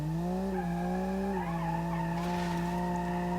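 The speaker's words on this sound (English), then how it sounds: "so it's able to do burnouts" Front-wheel-drive 1-liter three-cylinder base model car without stability control doing a burnout in BeamNG.drive, a steady continuous tire squeal with a droning engine note, sustained and fairly close throughout.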